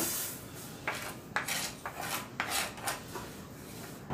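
A spoon scraping and stirring foxtail millet roasting with cardamom in a pan, a continuous close gritty rasp with repeated sharper scrapes at an uneven rhythm, no voices.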